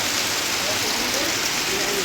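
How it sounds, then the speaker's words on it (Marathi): Steady rain falls close by, a constant dense hiss with faint voices murmuring beneath it. "आला आहे पाऊस"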